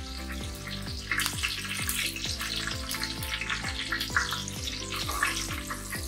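Fenugreek and fennel seeds fry in a pan for a Kerala beef dish, a continuous sizzle with a steady run of regular, repeating crackles and taps close by.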